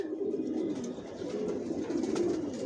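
Adult racing pigeons coo steadily in soft, low, overlapping murmurs, with a faint flutter and chirp now and then.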